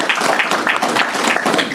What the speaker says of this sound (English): A round of applause for the panel and for all our questions online.